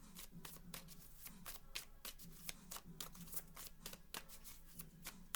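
Oracle cards shuffled by hand in a steady run of crisp riffling flutters, close and fairly quiet, with no talking.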